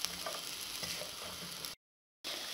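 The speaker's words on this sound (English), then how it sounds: "I'm going to give that a stir until the onion has softened a little" Onion and spicy paprika being stirred in a frying pan for a bolognese, a steady close scraping and gentle sizzle running continuously, then cutting out briefly to silence before resuming.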